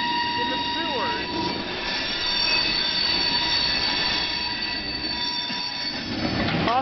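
Shrill, sustained wheel squeal from a CN switcher train grinding along rails in the Hamilton, Ontario terminal area, steady and loud throughout with a rumbling undertone beneath the high screeching tones.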